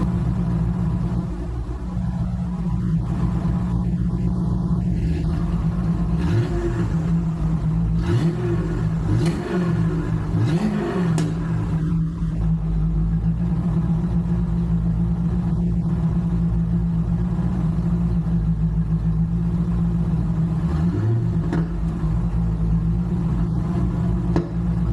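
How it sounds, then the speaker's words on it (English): A Chevrolet Chevelle fitted with a Corvette powertrain idles with a steady, deep, close rumble, broken by a few short revs that swell and fall back to idle. "I'll give you a little idle and a rev to end out this little segment real quick"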